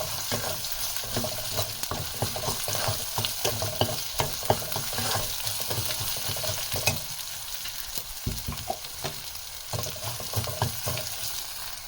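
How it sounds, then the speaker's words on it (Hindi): A tablespoon of ginger garlic paste frying in oil on a low flame for sarson ka saag, a continuous crackling sizzle with occasional stirring knocks and scrapes, close up and without speech. "मैं ऑयल में इसको अच्छे से फ्राई करूँगी। उसके बाद इसमें मैं 1 टेबल स्पून जिंजर गार्लिक का पेस्ट शामिल कर रही हूँ"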